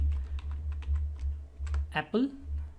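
Quick keystrokes on a computer keyboard tap out a short word in an irregular patter, close and clear, with a brief voice cutting in near the end.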